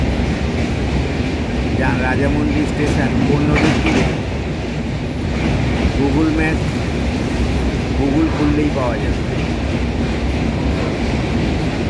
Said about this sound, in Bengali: অনেকক্ষণ ধরে ট্রেনটি রেল ব্রিজ দিয়ে যাচ্ছে